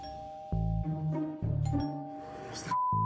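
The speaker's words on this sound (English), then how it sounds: "What's that doorbell?" A restaurant kitchen doorbell mounted on the wall, rung to signal dirty dishes, gives three loud ding-dong chimes in quick succession with a steady electronic tone held between them.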